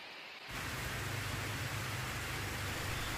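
A dense, steady hiss of heavy rain over Sampit, Indonesia, begins abruptly and continues evenly, filling the space with constant noise.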